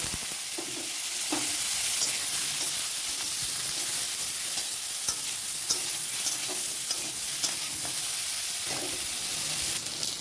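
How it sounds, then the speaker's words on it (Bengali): Potato and eggplant pieces fry in hot oil with turmeric and salt, giving a loud, steady sizzle with scraping stirs breaking through now and then. "এখন হলুদ লবণ দিয়ে আলু বেগুন ভেজে নেব।"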